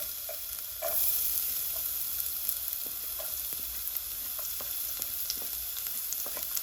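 Chopped garlic sizzles in hot oil in a pot for Jamaican salt fish, a steady close crackle with brief spatters and light stirring.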